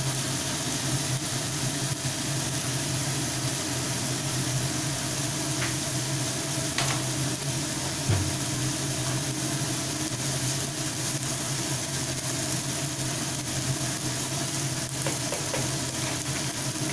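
Egg and eggplant frying in a pan, a steady, even sizzle that runs unbroken throughout, with faint scraping from stirring now and then.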